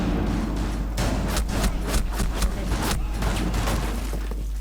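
Shotgun blasts in Rainbow Six Siege, about half a dozen loud booming shots spaced irregularly over a steady low background hum, with no voices.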